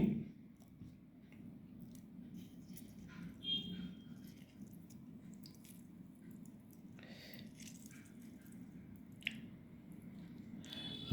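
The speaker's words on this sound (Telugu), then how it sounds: "చూడండి, ఈ లెమన్ని మనం ఇలా చక్కగా పిండుకుని" A fresh lemon squeezed by hand in a kitchen, with soft wet squishing and a few faint drips at close range, quiet and fairly continuous throughout.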